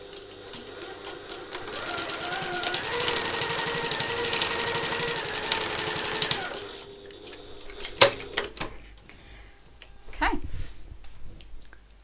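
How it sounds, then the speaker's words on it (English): A sewing machine back stitching a satchel's exterior panel whirs in one steady, close run of rapid stitching, then falls quiet, followed by a few sharp knocks and handling sounds. "so I'm back stitching instead."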